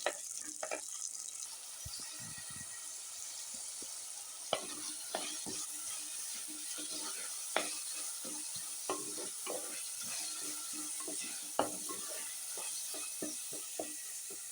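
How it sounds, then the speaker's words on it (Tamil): Small onions frying in a pan for chicken gravy, a soft continuous sizzle broken by frequent scraping and stirring knocks of a spoon, fairly quiet and with no voices. "சின்ன வெங்காயத்தை போட்டு ஃப்ரை பண்ணணும்"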